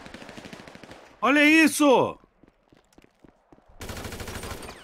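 Automatic weapons fire in the video game Counter-Strike comes in rapid, dense bursts at the start and end. An excited player's shout sits between the volleys.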